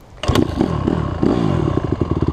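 A dirt bike pulls away in first gear as the clutch is let out, its engine revving up and chugging in a steady, rapid pulse at close range with some mechanical clatter.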